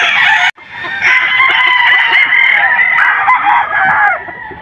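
A gamecock broodcock, a Gilmore Hatch rooster from a game farm, crows loudly and close by in one long drawn-out call after a short opening burst, with faint background clucks.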